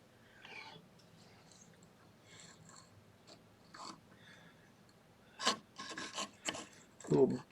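A lubricated saw blade cuts through a 1492 Spanish silver coin, giving soft rasping strokes early on, then a louder run of scraping bursts near the end, close and with no talk.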